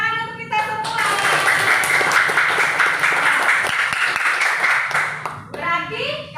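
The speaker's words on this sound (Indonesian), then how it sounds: "tepuk tangan untuk kita semua" A classroom of children claps hands together in a sustained burst of applause lasting several seconds, with children's voices and a teacher's speech around it.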